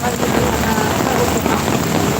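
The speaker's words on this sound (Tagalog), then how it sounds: "Lakas ng ulan guys." Heavy rain at the Pasig River Esplanade, a loud, dense, continuous hiss of downpour mixed with wind buffeting the microphone, steady for the whole stretch with no talking.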